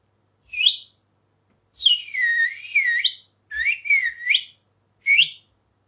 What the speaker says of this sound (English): fiddler whistles